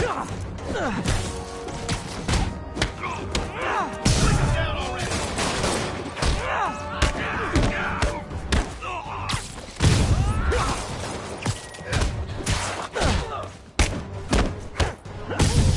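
Rapid gunfire in a PS4 shooter game aimed at a character named Fisk, dense bursts and heavy thuds running nonstop and loud, with a voice talking over the shooting.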